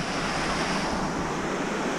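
The Łęg river's current rushes past a concrete bank, a loud, unbroken broadband roar of flowing water with no breaks or voices.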